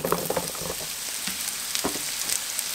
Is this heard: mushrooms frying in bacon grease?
yes